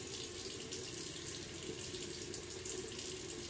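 Tap water runs steadily into a bathroom sink, a constant close splashing rush that continues alone without pause.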